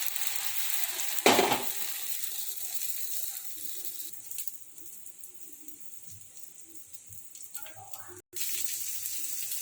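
Pancake batter frying in a little hot oil in a pan makes a steady, moderate sizzle with a brief louder burst near the start and a sharp clatter toward the end.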